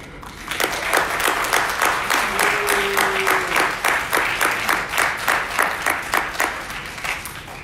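An audience at a commission meeting claps in unison, a loud, steady rhythmic beat that repeats evenly from start to finish with no voices over it.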